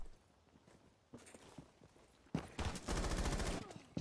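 Gunfire from the video game Rainbow Six Siege, with scattered shots and then a loud rapid burst of automatic fire near the end, mixed with game footsteps and movement sounds.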